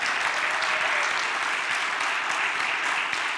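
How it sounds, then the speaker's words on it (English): Steady, dense applause from a conference audience at a leadership training keynote, honoring Brian, the tech person, sustained at an even level throughout with no speech over it. "let's give Brian a round of applause from the start"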